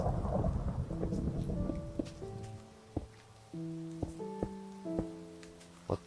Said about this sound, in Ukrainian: Ого, гроза.